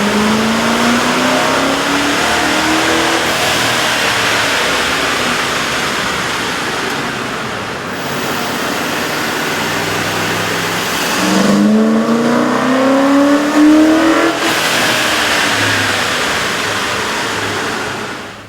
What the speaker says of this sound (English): we ran the vehicle on the dyno to test the sound comparison versus the stock intake